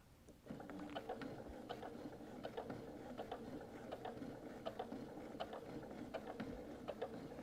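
A sewing machine stitches an applique onto a canvas tote at a slow, steady pace, its needle ticking in a close, regular mechanical clatter over a low motor hum, with no voices.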